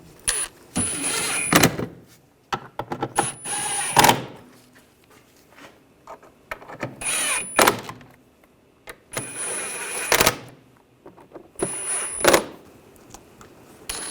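Power tool driving and tightening screws on the rear shock mounts of a 2009-2017 Volkswagen Tiguan, with repeated short whirring bursts separated by pauses, close and fairly loud.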